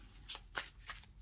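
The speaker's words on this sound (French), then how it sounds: "je tire les cartes devant vous" Tarot cards shuffled and drawn by hand, a few soft, quick riffling flicks close by at low volume.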